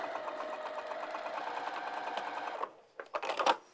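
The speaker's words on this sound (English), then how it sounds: "Make sure you're lock stitching here. And I'm going to sew again." A sewing machine lock stitching a fabric bag runs steadily for over two seconds, then gives a few short bursts as the backstitch is sewn, close and fairly quiet.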